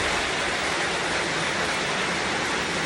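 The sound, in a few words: heavy rain on a farm field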